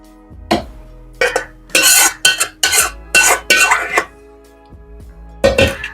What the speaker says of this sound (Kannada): ಇದನ್ನ ಮಿಕ್ಸಿ ಜಾರಿಗೆ ಟ್ರಾನ್ಸ್ಫರ್ ಮಾಡುವ.